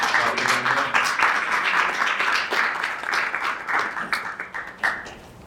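Audience at a global public policy symposium gives a departing panelist a round of applause: a room's worth of steady clapping over several seconds, slowly thinning toward the end with a few scattered final claps.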